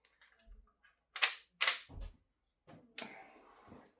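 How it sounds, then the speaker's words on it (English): A magazine is pushed into a Sig Sauer CO2 air rifle, giving a few sharp, close mechanical clicks and clacks in quick succession, with a soft handling rattle afterward. "Put the magazine in."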